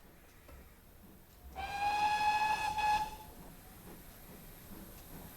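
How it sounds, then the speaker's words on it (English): Steam locomotive whistle on the West Somerset Railway in Train Simulator 2022, one steady tonal blast of about a second and a half with a hissy onset, loud and clear with no voices. "I love blowing whistles a bit too much"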